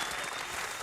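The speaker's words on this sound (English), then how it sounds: "Give this man a big round of applause." Audience applause fills the room for a guest being honoured, a steady dense wash of clapping from a crowd, close and even throughout the short burst.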